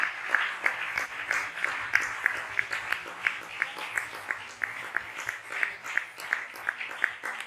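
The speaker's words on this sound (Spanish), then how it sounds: "Denle un aplauso a la gloria de Dios." Church congregation clapping in a steady rhythm at a Christian service, many hands beating together in a lively, regular pulse at moderate distance, with faint voices mixed in.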